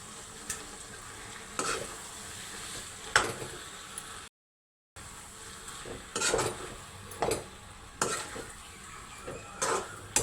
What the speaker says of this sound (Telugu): ఉడకబెట్టుకున్న కాకరకాయ ముక్కలు వేస్తున్నాను